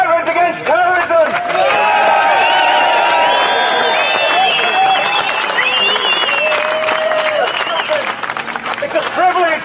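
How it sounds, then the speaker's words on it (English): Crowd at a Veterans Against Terrorism rally in London clapping and cheering loudly, with shouts and whistles over the steady applause and a babble of voices throughout. "It's a round of applause for the Veterans Against Terrorism."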